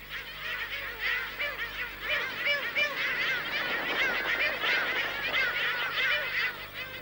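A dense colony of elegant black-headed gulls on Isla Raza calls continuously, many overlapping harsh squawks and cackles blending into a loud, busy chorus with no pauses.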